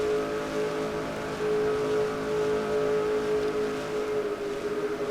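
Stock car racing video game engine held near 7,000 RPM at roughly 205 mph, a steady droning whine that eases slightly as the throttle backs off, continuous and fairly loud with no talk.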